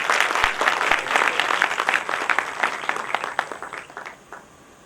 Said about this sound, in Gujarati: એકવાર જોરદાર તાળીઓ સાથે એમનું સ્વાગત કરીએ